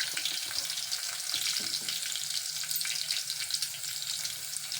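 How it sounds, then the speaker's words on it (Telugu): Cumin seeds sizzle in hot oil in a pan, giving a steady, close, crackling hiss throughout with no talking. "కొంచెం జీలకర్ర వేద్దాం."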